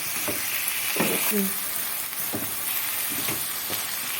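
Onions frying and being stirred in a pan while making béchamel, a steady close sizzle broken by several scraping stirs, with brief voice fragments.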